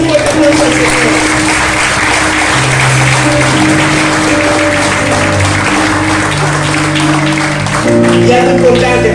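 Sustained applause from a church congregation, steady clapping over held musical tones, with some voices mixed in.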